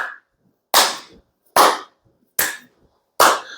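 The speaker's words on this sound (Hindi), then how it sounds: "आपने अपनी हाई नीज करना है और नीज के नीचे ताली बजानी है।" Four sharp hand claps beneath a raised knee during a seated exercise routine, evenly spaced and loud, each a crisp slap alone in a quiet room.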